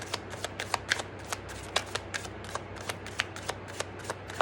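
Romance and love oracle cards being shuffled by hand, a steady run of crisp riffling snaps close up over a faint low hum, with no talking.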